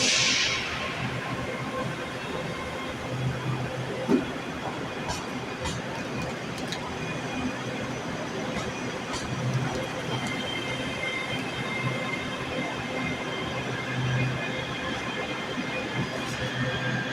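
Steady rail ambience at Glasgow Queen Street Station, a continuous low rumble and hiss of a train with faint wheel squeal and a few soft knocks, the sound holding at an even level throughout.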